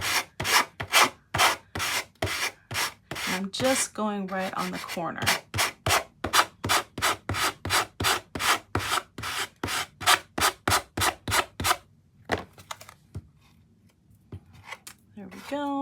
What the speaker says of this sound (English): See how that just comes out really nicely with the sanding block.